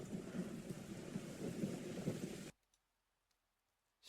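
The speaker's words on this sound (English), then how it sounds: "Aoi stands perfectly still as the rain drenches her" Steady rain with low thunder rumbles in a video game storm scene, loud and continuous for about two and a half seconds, then cutting abruptly to near silence.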